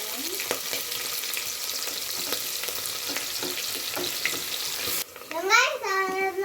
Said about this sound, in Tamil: எண்ணெய் காஞ்ச பிறகு இது போட்டுக்கலாம் ஒன்று பட்டை வந்து வந்த பிறகு வெங்காயத்தை காஞ்சி போட்டுக்கலாம்